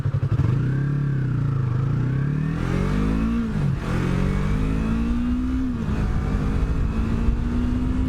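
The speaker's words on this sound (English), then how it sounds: "I'll jam it through the gears here." A 2017 Yamaha YZF-R3 motorcycle shifts up through the gears, its loud close engine note rising, dipping at each shift and climbing again in a continuous drone.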